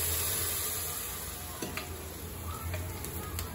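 Onions frying in a pan for mutton curry, a steady close sizzle with light clicks and taps of stirring, no talking.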